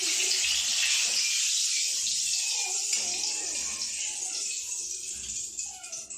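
Dry red chili sizzles in hot oil with a steady, bright crackling hiss, close and fairly loud, continuing evenly and fading slightly toward the end.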